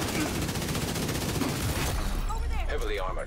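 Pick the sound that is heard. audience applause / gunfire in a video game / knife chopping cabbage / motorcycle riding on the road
gunfire in a video game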